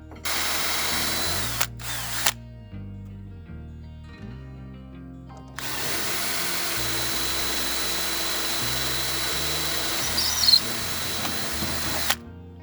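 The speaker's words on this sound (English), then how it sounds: "you see I'm drilling 2 holes here and here" A power drill whirs in two bursts, a short one then a longer sustained run, with low mechanical rumble between, close and fairly loud.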